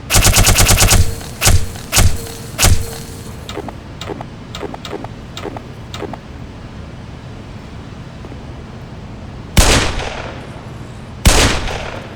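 Grenade launcher shots and gunfire in the video game Half-Life Black Mesa: a loud burst of rapid shots, then a string of spaced single cracks and two heavy blasts later, with no talk.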